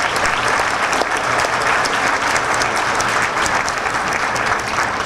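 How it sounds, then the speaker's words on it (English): Dinner audience applauding a video at an annual conference banquet, a loud, sustained round of clapping from a full room that holds steady throughout. "Let's give this video again a big round of applause, please"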